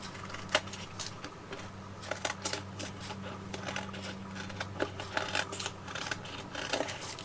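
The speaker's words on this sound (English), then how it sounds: "take your scissors and you can trim off all the extra little bits that are hanging off that card" Repeated light snipping and clicking of scissors cutting card, a steady series of short crisp cuts over a low hum.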